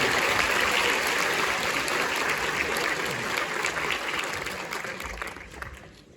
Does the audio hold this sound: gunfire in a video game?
no